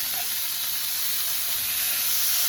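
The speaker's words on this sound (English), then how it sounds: "We'll go ahead and give those steaks a flip." Pan-seared steaks sizzle right after being flipped, a loud, steady close hiss of fat and steam with no talk over it.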